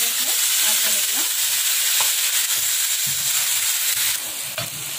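Mutton frying with onion, tomato and curry leaves in a pan produces a loud, constant, hissing sizzle with low stirring thumps underneath, close by and without speech.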